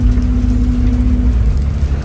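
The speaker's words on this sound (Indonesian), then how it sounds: "Terus ini juga jalanannya hujan terus." Rain falling on the road during a Gunung Harta bus trip, heard from inside as a steady, dense wash of patter over a low, continuous engine and road rumble, with no talking.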